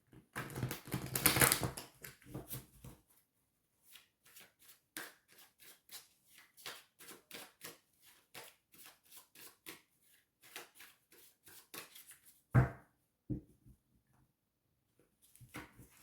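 A deck of cards shuffled by hand, one loud riffle burst followed by a long run of light, quick flicking and tapping as the cards are mixed further, close and otherwise quiet.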